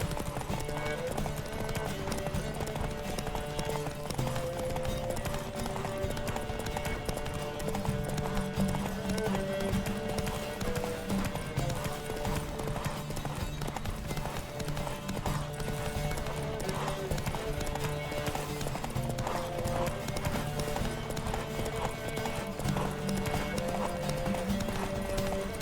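Horse hooves galloping in The Witcher 3: Wild Hunt, a fast, continuous clip-clop rhythm carrying on steadily beneath music and occasional game dialogue.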